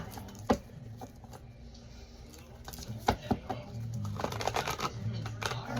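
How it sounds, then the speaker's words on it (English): Crisp riffling and flicking of paper cards in short bursts, with a fuller flurry of rapid card noise near the end; quiet background, no talking. "I'm kind of wanting to like shuffle the cards really good"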